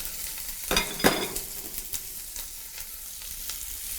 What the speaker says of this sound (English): then we have to heat pan with the oil and chopped onion